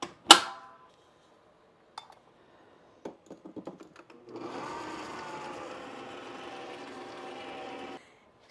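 An electric mixer whipping butter and sugar for a cake, starting with a few clicks and knocks, then running as a steady whirring hum for about four seconds before it cuts off.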